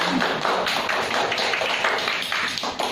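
A class of children clapping hands in a classroom lesson, a fairly loud, irregular patter of many small claps continuing for a few seconds.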